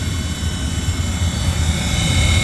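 A furnace runs noisily with a loud, steady roaring rumble and airy whoosh, like a blower pushing air, close by and unbroken throughout with no talking.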